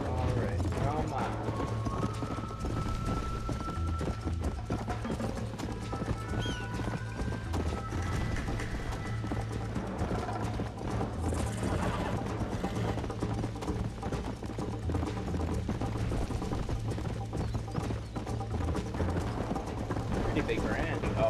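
Horse galloping in the Red Dead Redemption video game during a horse race, hoofbeats pounding steadily for the whole stretch alongside occasional whinnies, game music and someone talking over it.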